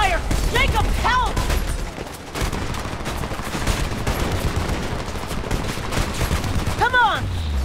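Heavy gunfire in the Homefront video game, dense bursts of automatic fire and explosions rolling on continuously, loud and close, with shouting voices over the chaos.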